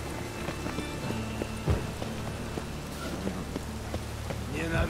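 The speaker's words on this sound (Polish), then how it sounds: "Chmury, duży deszcz." Steady heavy rain in The Witcher 3 video game hisses continuously, with scattered drops and soft thuds breaking through the dense wash of noise.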